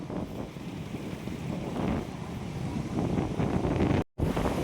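Strong, steady wind roars across the microphone at a fishing spot beside open water where anglers cast for giant trevally, a continuous close buffeting with a brief dropout near the end and no voices.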